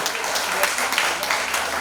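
Audience applause at a live stage show, a brief continuous wash of clapping at moderate level with no pauses.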